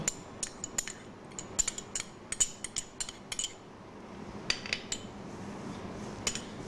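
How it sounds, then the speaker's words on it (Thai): Irregular soft knocks and clinks of a pestle pounding coriander root, pepper and sliced ginger in a mortar over a cloth pad, muffled and fairly quiet, repeating at an uneven pace. "เราจะโขก ส่วนผสมนี้ ต้องเอาผ้ารองไว้นะคะ ไม่อย่างนั้นเสียงจะดัง"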